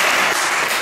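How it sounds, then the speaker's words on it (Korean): An audience at a lecture on North Korean denuclearisation bursts into brief, loud applause, a dense flurry of clapping lasting under a second. "한번 박수 좀 쳐보세요."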